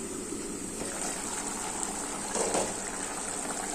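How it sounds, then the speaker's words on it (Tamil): A pot of liquid bubbles at a steady rolling boil, a constant soft hiss and burble with no voices. "நல்லா கொதிக்குது"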